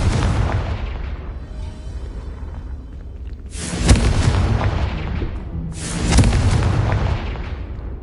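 Confringo blasting spells explode in a video game: two heavy booms a couple of seconds apart, each with a bright crack and a rolling rumble, over a steady low roar.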